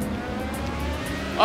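A car from a bus-versus-supercar drag race in GTA 5 accelerates, its engine a steady droning hum with a brief louder burst near the end, set under faint background sound.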